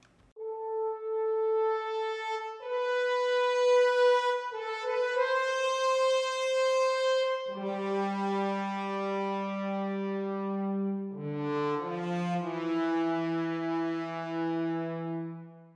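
Soloed orchestral horns from a dramatic war-themed score hold long, mellow sustained notes that shift through chord changes, sounding warm and roomy with no voices.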